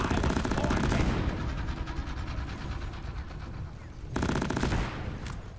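A Lok-1 smart rifle firing in a video game, rapid sustained automatic bursts that are loud and close, continuing with only a short break before another volley.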